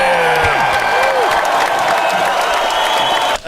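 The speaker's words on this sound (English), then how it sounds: "nice applause" A comedy show audience applauds and cheers loudly and continuously, with a host's voice calling out over the crowd before the noise cuts off.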